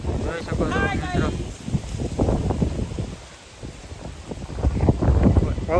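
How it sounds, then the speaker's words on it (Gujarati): Gusty windstorm blowing dust batters the microphone with a loud, rumbling buffet that swells and dips between gusts. "હમણાંથી બહુ પવન છે"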